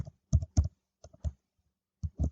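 Keys clack on a computer keyboard as a formula is typed into an Excel spreadsheet, coming in a few short clustered bursts of close, crisp taps separated by brief pauses, with no voices.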